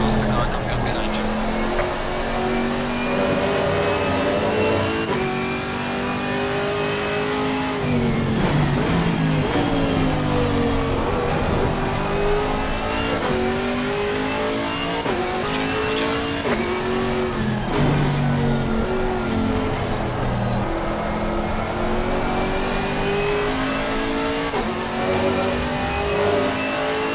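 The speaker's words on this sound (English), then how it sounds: "Faster car coming up behind you" GT3 race cars at the Hungaroring in Assetto Corsa Competizione, with loud continuous engine drone, shifting revs and gear changes as cars race close together, under occasional spotter radio talk.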